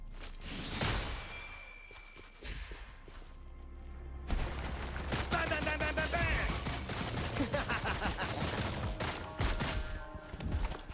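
Rapid bursts of gunfire ring out in the Wuthering Waves video game, dense volleys of shots layered over music and combat effects, with brief voices in between.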